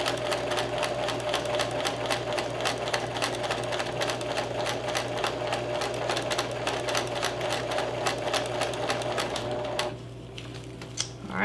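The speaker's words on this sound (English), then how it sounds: "I'm just gonna backstitch on each end to make sure that it doesn't come loose" A sewing machine backstitches a fabric tea bag closed, its rapid, even needle clatter running close and steady for about ten seconds before stopping abruptly, followed by a brief quiet rustle.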